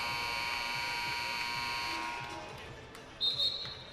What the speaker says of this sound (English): First buzzer sounds.